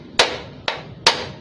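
Three sharp, close metallic hammer blows strike a rusty Lambretta scooter handlebar part, evenly spaced about half a second apart, each ringing briefly before fading.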